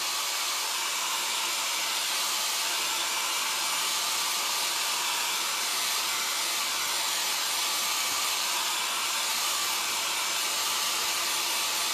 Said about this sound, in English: we're gonna blow dry this